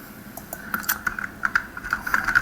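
Keys on a computer keyboard are typed in an uneven run of light, close clicks, with no other sound.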